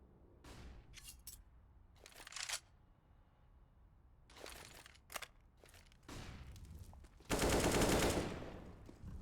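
Gunfire in an online Counter-Strike tournament match, scattered bursts of automatic rifle shots and single cracks separated by quiet gaps, ending in a louder sustained volley, with no talking.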